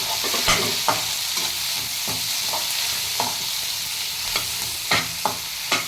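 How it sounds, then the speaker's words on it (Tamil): Onion and tomato sautéing in a pan for an anchovy dry fish thokku, a loud steady sizzle broken by irregular scraping stirs of a spoon against the pan, close up, no voices. "தக்காளி போட்டு நல்லா வதக்கணும்"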